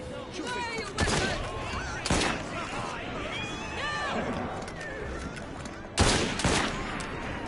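Gunshots ring out in a Victorian London street fight in Assassin's Creed Syndicate, with several sharp, loud reports spaced across the scene amid shouting voices and game ambience.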